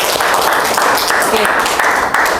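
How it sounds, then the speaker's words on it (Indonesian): A classroom claps for a student, a dense, steady patter of many hands lasting a couple of seconds, with a brief spoken word at the start. "Beri tepuk tangan untuk Marte"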